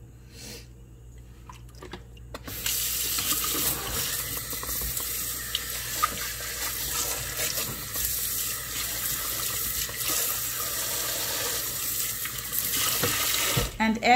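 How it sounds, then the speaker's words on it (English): Tap water gushes into a sink while menudo tripe is rinsed, a loud steady rush starting after a quiet moment and continuing to the end, with faint handling clatter mixed in. "I clean, take out the water, pour more water, and clean again"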